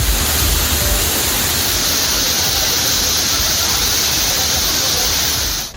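Thirparappu waterfall in Kanyakumari district gives a dense, unbroken roar of falling water, loud and steady throughout, cutting off abruptly at the end.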